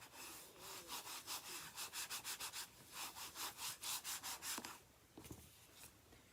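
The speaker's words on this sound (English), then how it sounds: "give that a quick burnish." Paper for a papercraft card is burnished with quick, even back-and-forth rubbing strokes that form a steady rhythmic swish close up and fairly quiet, ending with a few soft taps.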